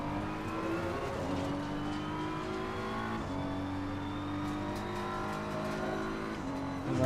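A race car engine in a racing video game revs up through the gears, each upshift marked by a sudden drop in pitch before it climbs again, holding a steady, loud, close drone throughout.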